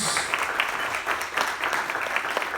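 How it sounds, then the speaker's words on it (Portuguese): A church congregation claps during a Sunday service, a brief burst of many hands with rhythmic, slightly uneven peaks, moderately loud and heard without talk. "Aplauda ao Senhor Jesus."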